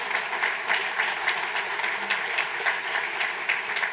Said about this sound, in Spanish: hay que darle un gran aplauso a él